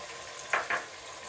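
Ground red chilli and turmeric dropped into hot ghee give two quick, close sizzling bursts over a faint steady hiss in a home kitchen.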